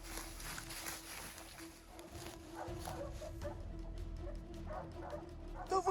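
Hunting dogs, including a six-month-old bitch, yelp and bark while working game outdoors, with rapid excited yips and whimpers, fairly faint and distant over background noise, and a few louder sharp barks at the end.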